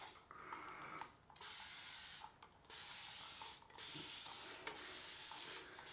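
Bursts of aerosol shaving spray hiss in several long sprays with short pauses between, close and steady.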